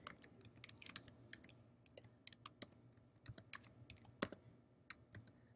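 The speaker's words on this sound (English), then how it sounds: "go to your browser and type in spark.adobe.com" Fingers tap out a web address on a computer keyboard, a quick irregular run of close, crisp key clicks with a few firmer strokes, heard alone in a quiet room.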